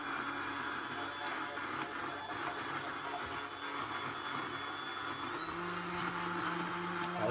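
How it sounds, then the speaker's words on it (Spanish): A hand blender whirs steadily and fairly loudly, smoothing a thick shrimp béchamel sauce in a kitchen; its constant motor drone holds for several seconds and swells slightly near the end. "Con una batidora por encima vamos a romper si nos queda algún grumo"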